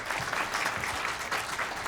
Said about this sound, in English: That was applause for the whole panel